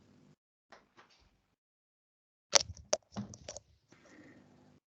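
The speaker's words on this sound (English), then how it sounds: "I want to close the door." A door in a house being closed during a property viewing: a couple of soft knocks, then a sharp latch click and a thud with rattling, alone in a quiet room.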